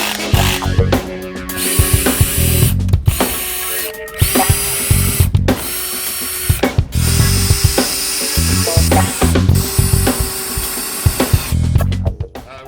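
A power drill whirs in repeated short bursts with brief pauses and clicks between bit changes, close and loud, with no talking, while building a bike ramp.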